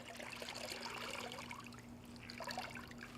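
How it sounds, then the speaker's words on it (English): Water trickles and splashes steadily from a wrung-out car wash mitt, a soft, continuous dribble at low volume under a faint background hum, without talking. "grab your wash mitt, pull it out, and then you want to wring it out slightly"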